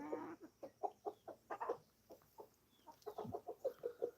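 Homestead chickens clucking in a flock with younger birds, a steady run of short, quiet clucks in rhythmic bursts, close by and with no talk.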